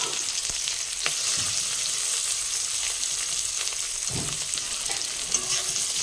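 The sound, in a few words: onion frying in hot oil in a wok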